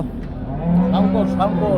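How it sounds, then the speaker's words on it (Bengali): A crossbred dairy cow moos loudly and close by at a cattle market, a long drawn-out low call with a rising, wavering tone, over faint background noise. "ক্রস জাতের গাভী"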